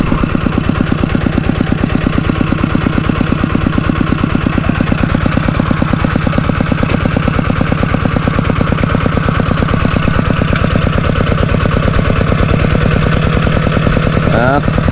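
A walking tractor's engine runs loud and close, with a steady, rapid thumping idle that holds unchanged throughout.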